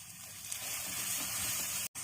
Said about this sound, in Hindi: इसको भी थोड़ा भून लेंगे मसाले के साथ।